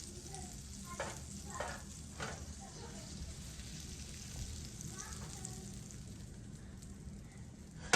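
Garlic frying in a pan, a soft steady sizzle with a few stirring scrapes and clatters near the start, faint and continuous throughout.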